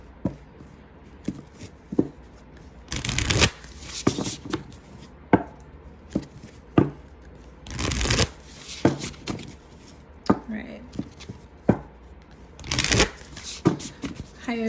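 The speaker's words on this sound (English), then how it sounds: "Just going to shuffle quickly." A deck of Beyond Lemuria oracle cards is shuffled by hand in several quick riffling bursts, with sharp card taps and slaps between them, close and clear in a quiet room with occasional soft speech.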